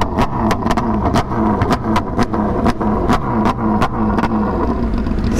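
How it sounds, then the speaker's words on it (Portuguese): Honda CBR motorcycle engine running hard with a string of sharp, irregular pops and bangs over a steady low rumble, loud and close, no voices. "Tá dando uns estouros nervosos essa moto."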